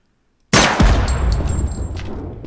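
A single loud gunshot from an enchanted weapon loaded with standard FMJ rounds in the video game Project Silverfish: a sharp, close blast at once, a ringing metallic tail, and a low rumbling decay.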